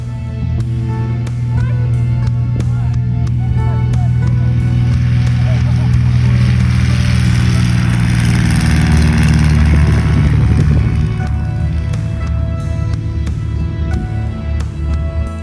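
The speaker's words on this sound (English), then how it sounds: "Here's a short video of my takeoff at the conclusion of the fly-in." A Cessna 172 takes off from a 2,000-foot grass strip at the end of a fly-in, its engine a loud, steady low drone that fills the whole clip with a rough, rumbling texture.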